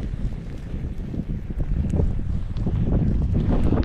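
Wind buffets the microphone on a desert island, a steady low rumble that grows slightly stronger toward the end, with no speech.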